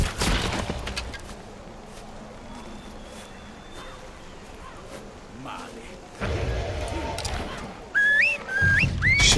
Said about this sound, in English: He just whistled for help.